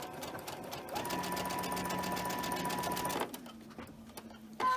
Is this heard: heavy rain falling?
no